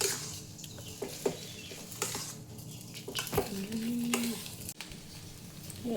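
Potato and spice mixture being stirred for vada pav, with a utensil scraping and clinking against the pot in uneven strokes and a brief sizzle-like hiss, close by with no talking.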